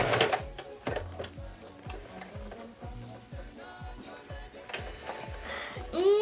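Sewing machine back stitching through denim jeans, a fast steady mechanical ticking of the needle running in regular bursts with brief pauses, fairly close and moderately loud.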